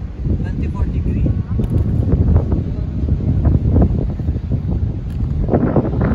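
Wind blows steadily at the coast in Sur, Oman, buffeting the microphone with a continuous low rumble; voices talk faintly beneath it.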